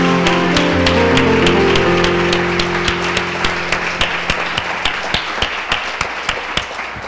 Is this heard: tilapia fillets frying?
no